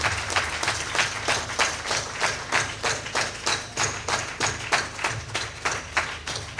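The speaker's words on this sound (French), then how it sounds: "Merci de continuer par les applaudissements jusqu'à ce que je gagne la place" An audience at an evening gala in Cotonou claps in unison, a steady rhythmic beat of synchronized applause repeating evenly at about two claps per second throughout.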